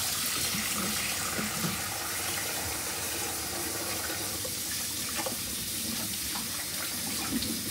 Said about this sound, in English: let me put this in the sink and wash my hands again